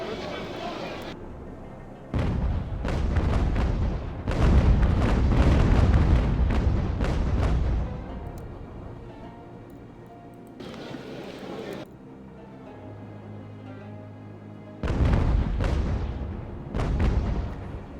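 Ship cannons fire in the naval video game UGAR, British campaign: a series of loud heavy booms and rumbling blasts come in bursts with pauses between them, some overlapping into a rolling barrage.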